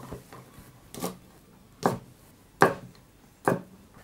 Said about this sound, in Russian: Режу все прям очень произвольно, любыми кусками.